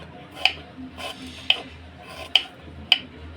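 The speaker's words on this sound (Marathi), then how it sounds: "तर हे सर्व मी कांदे आणि टोमॅटो चिरून घेते" A knife chops onions and tomatoes in a kitchen, giving four quiet, sparse, sharp taps spaced about a second apart against a soft background hush.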